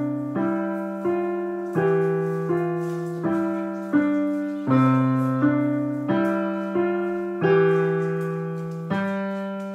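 Slow piano melody played with both hands, each note or chord struck alone and left to ring out before the next, in an even unhurried rhythm with no voices.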